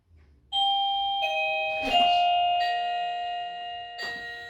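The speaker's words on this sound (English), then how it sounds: "can you ring the doorbell when you're ready?" A two-tone doorbell chimes twice inside a home, each ring a clear ding-dong with bright tones that hang and slowly decay, the second ring arriving about two seconds after the first and overlapping the fading tail.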